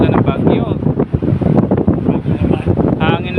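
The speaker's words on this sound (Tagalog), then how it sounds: "Ang lakas ng hangin, pero ang sarap." Loud, gusty wind after a storm buffets the microphone in a continuous low roar, with a person speaking underneath.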